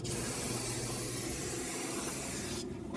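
Spray rinsing the front brake area of a 2014-2019 Toyota Corolla, a steady close hiss of aerosol spray lasting about three seconds before cutting off.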